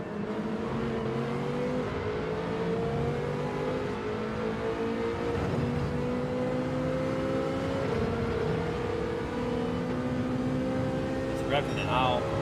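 A race car engine in Gran Turismo 7 drones steadily and rises in pitch as it revs, sustained and loud with no pauses, with a faint voice briefly near the end.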